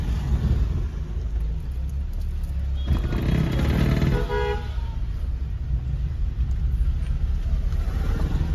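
A car driving slowly over a rough, potholed village road, with a steady low rumble throughout and a brief louder burst of engine and bumping noise in the middle.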